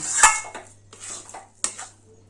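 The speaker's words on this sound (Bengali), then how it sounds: "দুধটা ভালোভাবে মিশিয়ে দিচ্ছি" A spoon works powdered and liquid milk together in a metal pot for a rice sweet, giving a few irregular scrapes and bright clinks against the pot, close and fairly loud, with no talking.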